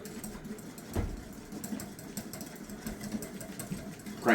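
An electric mixer whirs steadily as it beats egg whites and sugar toward hard peaks for angel food cake, a close, even motor drone with a few soft knocks against the bowl.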